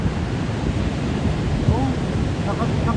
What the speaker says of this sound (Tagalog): ang daming alon